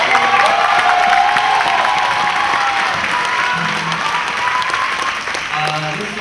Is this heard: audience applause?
yes